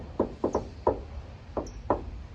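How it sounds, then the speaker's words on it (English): A playful rhythmic knock on a door, Looney Tunes style: six crisp knuckle raps in a shave-and-a-haircut pattern, two quick pairs and single hits spaced across a couple of seconds, close and clear with no talking. "That little Looney Tunes knock"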